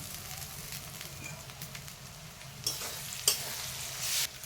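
Onions frying in oil give a steady close sizzle as ginger-garlic paste goes in, with a few louder bursts of hissing and crackle near the end, and no talking.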